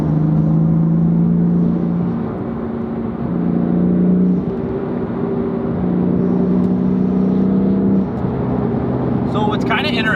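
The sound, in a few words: BMW M4 engine revving with Turner Motorsports cold air intake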